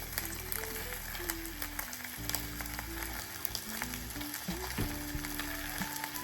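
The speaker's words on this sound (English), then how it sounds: "So right away, I'll be adding a little bit of onions." Onions sizzling in a pan as the base for a fish pasta sauce, a steady close frying hiss running throughout under a low tonal background, with no talking.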